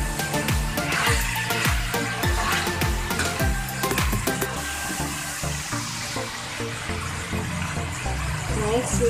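A cup of water pours into a pan of sautéed kangkong with ground meat and tofu, a gushing splash and hiss following a few rhythmic stirring scrapes, close and steady, with a voice speaking over it.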